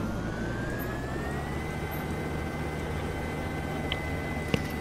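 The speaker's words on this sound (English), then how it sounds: "Oh, I like this helicopter better." A helicopter in Garry's Mod gives a steady, continuous engine drone with a faint rising whine, heard alone and unchanging at a moderate distance.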